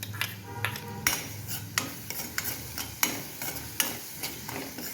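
Chopped onion goes into hot tempering oil for a vegetable curry, giving a sharp sizzle followed by a series of quick metallic clinks and scrapes of a spoon against the pan.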